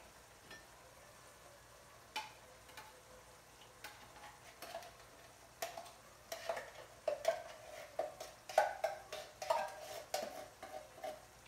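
Diced tomatoes and green chilies are stirred in a skillet, with soft sizzling and scattered utensil scrapes and taps that grow busier toward the end, fairly quiet and without talk.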